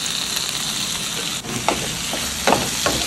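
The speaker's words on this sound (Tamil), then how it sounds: "தக்காளியை நல்லா மசாலாவோடு சேர்த்து கலரி விட்டுக்கலாம்" Two medium-sized chopped tomatoes frying with masala in a pan for egg bhurji, a steady close sizzle broken by a few soft scrapes and stirs, no voices.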